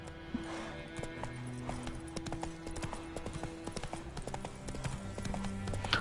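Roach, the horse in The Witcher 3, clip-clops along at a quick, even hoof rhythm over a faint game soundscape, with a brief snort or whinny.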